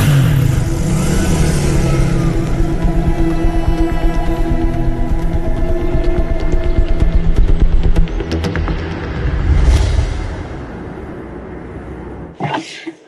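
A car engine throbs and revs up close for several seconds, then eases off and swells again before cutting out.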